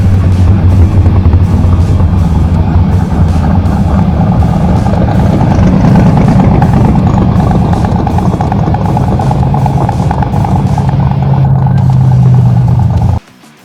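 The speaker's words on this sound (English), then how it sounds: "I heard a couple of cars coming," Drag race cars in the pits at Sick Week 2023, loud, close engines rumbling and revving continuously as they pass, then cutting off abruptly near the end.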